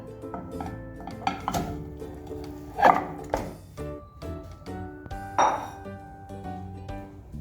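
A metal karahi wok is set on a stove and pieces of mutton go in, producing a string of close clinks, knocks and ringing metallic pings, with two sharper bright rings standing out.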